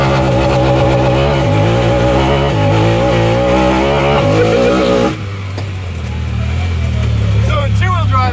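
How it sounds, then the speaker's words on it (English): A Honda Talon side-by-side in two-wheel drive does a launch-mode burnout: a loud, close engine roars at high revs with its pitch shifting for about five seconds, then drops abruptly to a lower, rougher running note. "So in two-wheel drive, launch mode just does a huge burnout."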